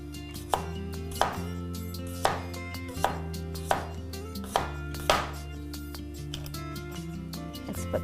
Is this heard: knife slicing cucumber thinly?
yes